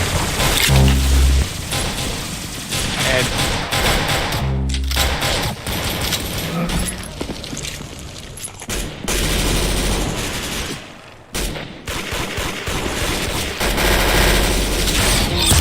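Rapid gunfire in a Roblox game, with dense bursts of shots and booms repeating loudly through the whole stretch and only brief pauses.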